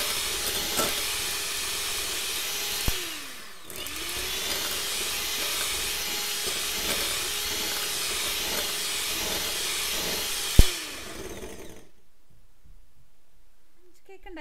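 Tiramisu cream mixture whipped with an electric mixer, a steady loud whirring hiss running for about eleven seconds with two brief pauses, then cutting off to near silence.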